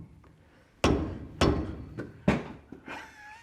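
A hammer strikes a Toyota Hilux rear axle during a bearing overhaul: four sharp metallic blows at uneven intervals, close and loud, each ringing briefly before fading, with quieter knocks between.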